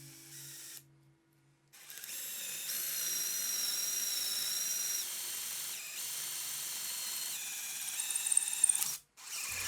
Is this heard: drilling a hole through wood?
yes